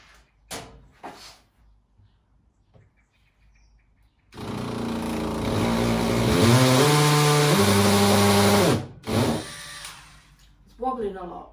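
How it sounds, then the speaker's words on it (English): A power drill boring a hole while fitting a prize, running steadily for about four seconds with shifting pitch as it bites, framed by quiet speech before and after. "And we're gonna drill."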